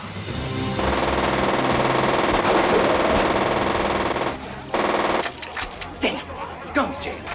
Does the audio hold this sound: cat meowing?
no